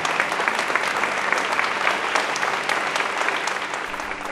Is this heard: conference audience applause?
yes